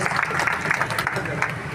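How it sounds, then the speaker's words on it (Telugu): An audience at a police road-safety event in Nizamabad claps together, the applause dense and steady, mixed with voices talking over it. "అయిపోయింది చప్పట్లు కొట్టచ్చు"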